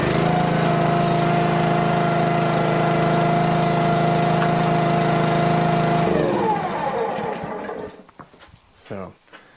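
A pressure washer's small engine, started without choke, runs with a steady loud drone, then cuts out and stops; a few clunks and bumps follow near the end.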